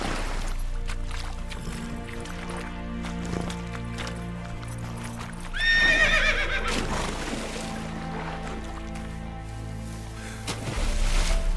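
A horse in The Witcher 3 moving at a gallop with soft, rhythmic hoofbeats, then a loud, shrill neigh partway through before the hoofbeats carry on.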